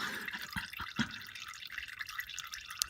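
Engine oil draining from a Ford Focus ST into a catch container, heard as a faint continuous trickle with a few soft drips over low background noise.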